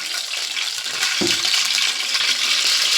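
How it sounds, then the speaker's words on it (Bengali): Oil poured into a hot kadai (wok) for frying dudh puli pitha in a home kitchen: a steady, close, soft hiss with a brief low splash as the oil lands. "এখানে এবার দিয়ে দেব তেল।"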